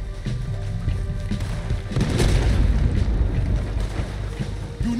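Deep booming cannon blasts roll through a dense, noisy Red Dead Redemption 2 battle soundscape, growing louder and heavier partway through.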